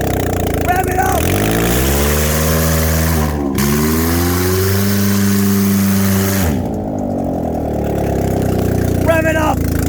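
A Kia Spectra with an open exhaust revs hard with the hood up, its loud engine note rising and falling through several throttle blips before settling, with brief voices near the start and end.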